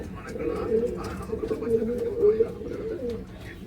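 Racing pigeons coo in low, rolling phrases close by, with steady overlapping calls from several birds filling the short stretch alongside a faint background murmur.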